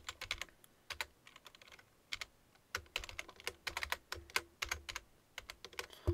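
Typing on a computer keyboard, with irregular bursts of sharp key clicks close up and short pauses between runs, no voices.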